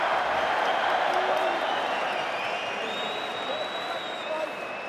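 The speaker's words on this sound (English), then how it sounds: "This is called a crowd." Crowd at a boxing venue, a dense, loud roar of cheering and applause that fades slightly, with voices talking over it.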